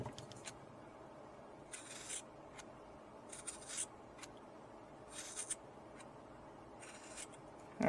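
Fiskars scissors snip through several thread strands while making tassel earrings, giving a few short, quiet crisp cuts spaced about a second apart against a near-silent background.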